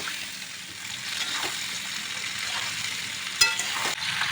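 Indian gooseberries (amla) frying in mustard oil in a kadai for pickle, a steady soft sizzle throughout with a brief sharp clink near the end.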